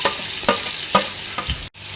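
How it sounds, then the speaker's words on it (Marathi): Onions frying in hot oil for biryani give a steady close sizzle, marked by rhythmic scraping stirs about every half second and a brief dropout near the end, with no talking. "आता इथे तेल आपलं चांगलं गरम झालं आहे मी आता हा कांदा परतून घेणार आहे"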